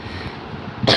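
A single short, sharp cough from a person who is sick with a fever, close by and abrupt after a quiet stretch.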